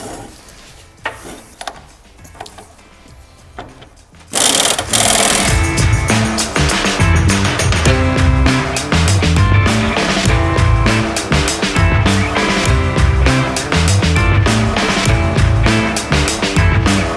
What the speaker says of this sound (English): So we have these run all the way up now with the impact.